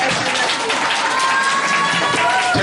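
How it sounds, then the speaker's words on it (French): A crowd at end-of-year school festivities applauds a team with steady, loud clapping and some cheering, a dense, sustained wash of many hands. "je vais en faire beaucoup plus d'applaudissements pour cette équipe-là"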